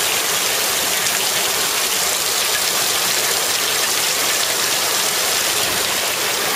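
A heavy rainstorm pours down steadily, flooding a yard, producing a dense, loud, unbroken hiss of rain and running water with no voices.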